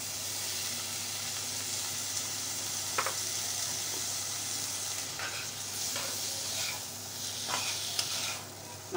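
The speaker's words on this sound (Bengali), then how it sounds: "মাংসগুলো ভালোভাবে কষিয়ে নেব।" Meat sautéing in a pan, a steady close sizzle and hiss running throughout with occasional scraping stirs and small pops, no voices.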